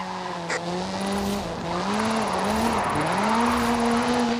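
A 2-litre turbocharged, front-mounted engine drives all four wheels of a single-seat car in Forza Horizon 5. Its steady tone climbs and dips through the gears, with faint tire squeal, close and loud with no talking.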